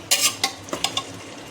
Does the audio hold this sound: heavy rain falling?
no